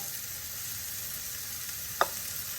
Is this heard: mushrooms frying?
yes